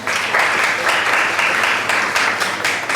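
Students and guests at an inter-school speech competition in Karachi applaud for their schools, with loud, continuous group clapping and faint crowd voices underneath.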